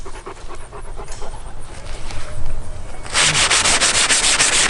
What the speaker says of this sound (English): I have to use a fingernail on some of it just to get the residue off